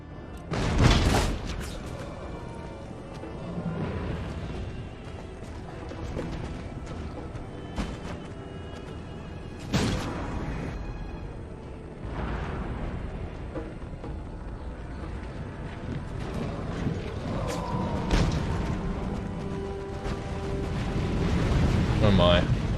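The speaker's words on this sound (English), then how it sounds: "Oh, here comes some more shots." Cannon and artillery fire in the Empire: Total War video game with Great Britain: scattered booms roll in at irregular intervals over a broad windy, sea-like ambience, some shots sharp and close, others dull and distant.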